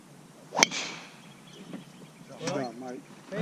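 A golf club swing striking the ball on a par 5 hole at Del Rio Country Club in Modesto: one crisp, sharp crack of contact, then a soft whoosh trailing away, followed by a voice talking.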